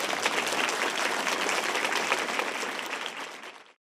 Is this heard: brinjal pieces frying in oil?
no